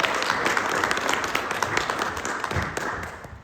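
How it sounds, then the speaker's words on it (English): A small audience claps for a guest at the close of a mock talk-show podcast, a steady patter of hands that thins out toward the end, with faint voices underneath. "Can we get a round of applause?"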